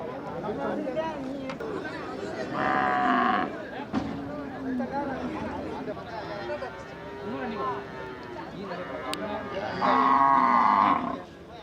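Cattle at the Manapparai cattle market, a busy livestock fair in Tamil Nadu, with loud moos standing out twice over steady crowd chatter and nearby talk.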